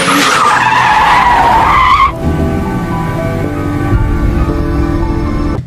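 A car driven hard during a film chase: loud tire squeal and skidding with a high engine whine that cuts off abruptly, followed by a lower rumbling engine drone.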